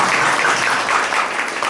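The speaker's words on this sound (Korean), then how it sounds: "다시 한번 그 오늘 발표해 주신 그 연사분들에게 박수 한번 하고" Audience applause for speakers at the close of a blockchain panel discussion, a dense steady wash of many hands clapping together, fairly loud and close, with no talking over it.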